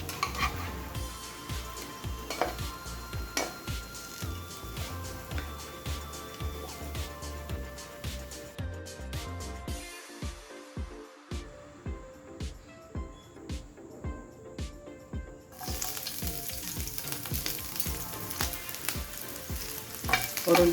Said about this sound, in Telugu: అటు ఇటు ఎర్రగా కాల్చుకోవాలి.